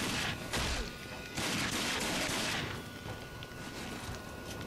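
Pistol fire in the shooter Rage comes in loud, close bursts of rapid shots, two blasts in quick succession followed by a longer stretch of firing, before dropping to quieter background game ambience.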